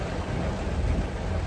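Dense, steady rain pours down in a broad hiss, with a low rumble of thunder running underneath throughout, close and loud, with no voices.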